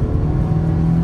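A low-horsepower car holding a drift, its engine droning in a steady, buzzing tone under acceleration, close and loud without a break.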